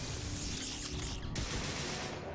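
Gunfire in the game System Shock 2, a dense, loud burst of rapid shots that fills the short moment with no voices over it.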